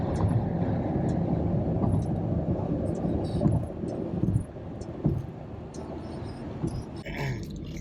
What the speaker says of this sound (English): stuck in traffic in a tunnel